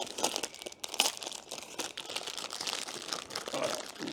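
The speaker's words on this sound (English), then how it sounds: "Open my knife, cut the packet." A knife slits open a plastic packet of dried apricots, giving close, steady crinkling and crackling of the wrapper with a few sharper tearing bursts throughout.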